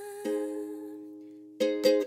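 Ukulele playing the pre-chorus of a song, a few plucked chords ringing out with long sustain, then quicker strums near the end, clear and alone.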